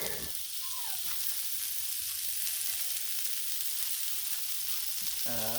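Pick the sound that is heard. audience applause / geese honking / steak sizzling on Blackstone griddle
steak sizzling on Blackstone griddle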